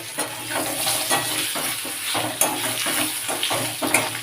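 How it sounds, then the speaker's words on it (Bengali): Boiled potatoes fry in leftover fish-frying oil in a wok, a steady close sizzle broken by repeated scraping stirs and the light clatter of a spatula. "বাকি আলুটা হালকা করে ভেজে নেবো"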